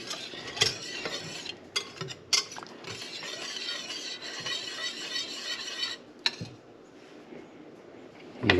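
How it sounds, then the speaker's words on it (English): Sauce for canned-sardine creamed toast being stirred in a pan, with soft continuous scraping and clinking of a utensil against the pan and a few sharper knocks, moderately close with no talking. "Just want to make sure we keep stirring this so we don't scorch the bottom."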